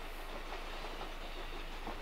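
A Kintetsu Urban Liner express train rolls past nearby at Nabari depot, a steady rushing roar with faint rhythmic clatter of wheels on rails.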